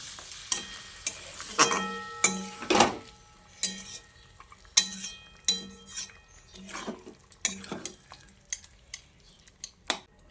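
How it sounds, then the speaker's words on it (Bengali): Spinach being stirred together with fried lentil dumplings (bori) in a pan, a spatula scraping and clinking against the metal in repeated, fairly close strokes over a soft background sizzle, with no talking. "ভাজা বড়িটা দিয়ে শাকের সঙ্গে ভালো করে নেড়েচেড়ে মিশিয়ে নিচ্ছি"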